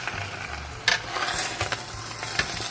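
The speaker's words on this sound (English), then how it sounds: "So just wanna keep stirring it." Meat for a large pot of Guyanese pepperpot is stirred and browned, with a steady sizzling hiss broken by scraping spoon strokes and clunks against the pot.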